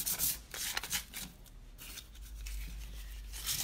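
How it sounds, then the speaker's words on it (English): Sandpaper is rubbed lightly over milk-painted furniture to soften the finish, producing quiet, irregular scratchy strokes close to the microphone with no talking. "I'm not doing a whole lot of sanding, but I'm just softening it."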